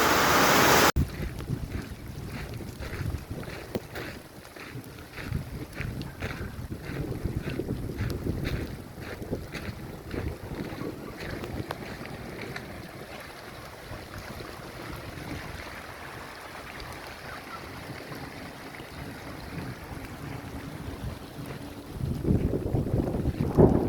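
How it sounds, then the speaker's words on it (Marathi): Heavy rain mixed with falling hailstones in an unseasonal summer downpour, heard as a loud, steady broadband roar with scattered sharp impact ticks throughout and wind buffeting the microphone, with no one talking. "इथल्या गारा पडतात बघा हे बघा एवढ्या गारा पडल्या"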